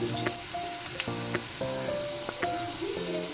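Small diced potatoes sizzle in mustard oil with five-spice seeds, a constant bright hiss with light crackle, partly masked by melodic background music.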